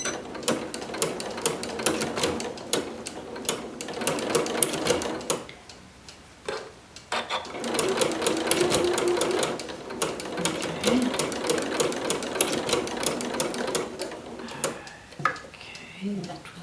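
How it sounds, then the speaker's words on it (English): A sewing machine fitted with a ruffler foot stitches and gathers fabric, a rapid mechanical clatter running in bursts with a short pause partway, close and steady, with a little talking. "it's going to do 12 stitches and then it's going to gather"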